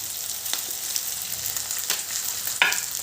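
Matar paneer pulao with salt and pulao masala being mixed in a pan over lowered gas, giving a soft steady sizzle broken by a few scraping stirs of the spoon; no voices.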